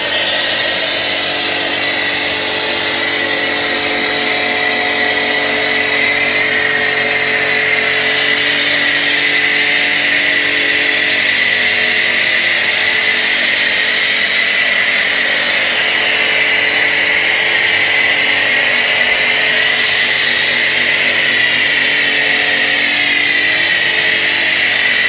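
Pressure washer running outdoors while snow foam is sprayed over a car, a loud steady motor whine with a broad hiss of spray that holds unbroken for the whole stretch.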